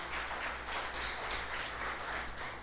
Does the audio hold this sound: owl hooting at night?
no